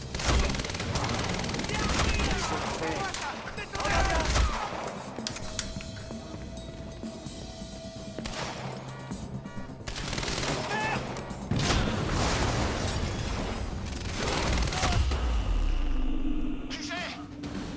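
Rapid bursts of gunfire and loud impacts fill a shootout in the video game Quantum Break, continuous and close, with shouted voices mixed in.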